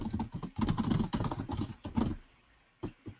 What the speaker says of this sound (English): Sorry, I got behind on my typing.